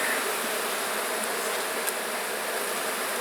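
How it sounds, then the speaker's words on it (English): A dense, steady buzzing of many honey bees fills the air up close, a constant agitated drone with no pauses. "even though I know these bees are agitated"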